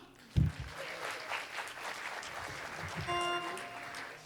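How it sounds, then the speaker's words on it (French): Audience applause at an Easter choir concert in a church comes across as a light, moderately distant patter with a thump near the start and a brief sustained musical tone toward the end. "On applaudit encore."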